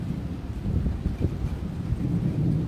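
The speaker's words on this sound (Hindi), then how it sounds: "अब शुरू हो रही है बारिश साथ साथ" Thunderstorm with rain starting to fall under low clouds, a dull rumble of thunder and wind buffeting the microphone over a steady wash of rain, continuous and fairly loud with no voices.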